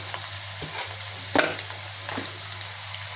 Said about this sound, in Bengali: এখন চিংড়ি মাছ ভেজে নিলাম পেঁয়াজের মধ্যে দিয়ে